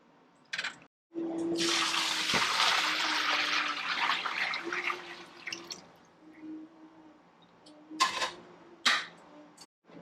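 Near-boiling water for tie dyeing pours steadily in a broad hiss for several seconds, then stops, with a few brief splashes near the end.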